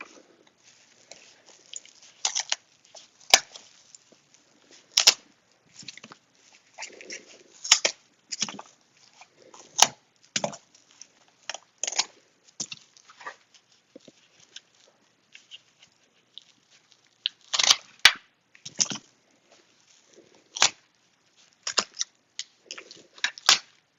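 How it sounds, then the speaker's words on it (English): Extra stems are snipped off stored begonia and canna tubers with sharp, close clicks and rustles. The cuts come irregularly over a quiet background. "I've just cut the extra stems off"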